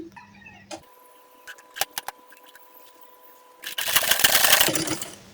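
Sewing machine running a short burst of stitching on a salwar's elastic waistband, a fast close whirring rattle near the end, preceded by a few isolated clicks and handling taps.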